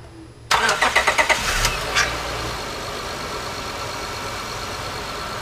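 Car engine cranking with a quick series of starter pulses, then catching and settling into a steady idle, close and clear. The engine is a Honda Accord J30A4/A5 V6, just fitted with a new timing belt.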